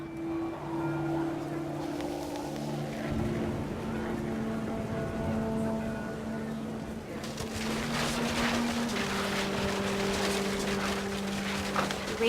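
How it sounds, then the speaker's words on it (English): Heavy rain pouring down in the video game What Remains of Edith Finch, a continuous hissing downpour under sustained musical tones, growing denser and brighter halfway through. "The rain came down in buckets then,"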